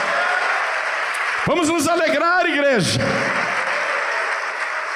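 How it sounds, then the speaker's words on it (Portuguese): A church congregation applauds in a dense, steady wash of clapping that fills the whole stretch, while a preacher's voice speaks loudly over it partway through. "Oh glória, vamos aplaudir"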